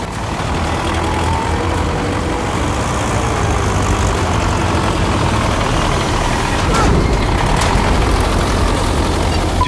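A tractor engine idling steadily after starting, a loud continuous low diesel rumble with a slight rise in intensity partway through.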